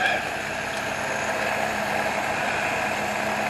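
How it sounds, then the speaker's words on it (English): A 1977 Toyota Celica engine idles steadily at about 1100 RPM, giving a continuous, even mechanical hum with a faint constant drone, heard close and alone for a few seconds. "I got it idling halfway decent."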